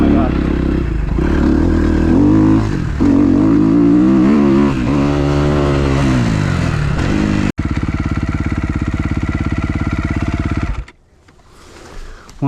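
A 2012 Kawasaki KX250F dirt bike, freshly rebuilt, rides a lap with a loud, continuous engine note that rises and falls through revs and gear changes, then drops away sharply near the end.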